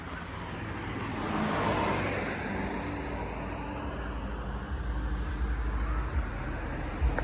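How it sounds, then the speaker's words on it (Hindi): Road traffic rolls past on a hilly road during a rainy cycle tour, a broad continuous rumble that swells early on and stays steady throughout, with no voices. "और अब चलना शुरू हो गया ट्रैफिक।"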